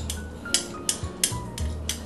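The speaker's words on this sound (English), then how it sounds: "So I mix it together in this bowl" A utensil clinks against a bowl while a brown sugar mixture is stirred, giving about six sharp metallic taps in an uneven rhythm, close and clear, with no talking.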